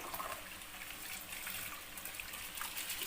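About 1.5 kg of washed lentils pour into roughly 4 liters of hot water in a cooking pot for haleem, a steady close rushing, pattering splash that continues for the whole stretch with no talking.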